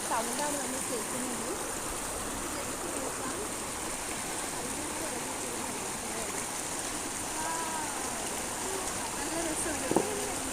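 Water flows steadily in a stream or river, a soft continuous rushing and trickling heard from nearby at low volume, with a faint brief knock near the end.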